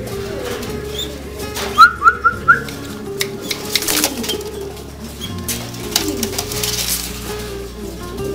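A pigeon squab, a young domestic pigeon, chirps in a short run of about four quick calls near the mic, followed by scattered fainter peeps and cooing over steady low background noise.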